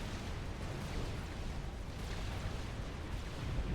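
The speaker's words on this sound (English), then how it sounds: "As a nuclear explosion takes away the ACU from Turbo2" A nuclear explosion in a strategy video game sets off a sustained, rumbling roar of broad noise, low and fairly quiet. It keeps a dense crackling wash with no distinct single blast and no speech.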